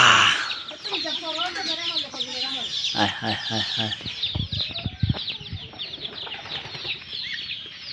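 A chicken clucks and squawks agitatedly up close, with bursts of harsh, rapid calls and some wing flapping amid background noise.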